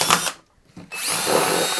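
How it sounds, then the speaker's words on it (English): A power drill whirs briefly, stops for a moment, then spins up again with a high, steady whine up close. "you can simply take a drill"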